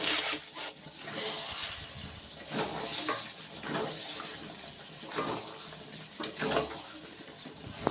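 Mutton curry is stir-fried in a pan, with soft scraping and stirring strokes recurring at an irregular rhythm, fairly quiet and close, alone without talk.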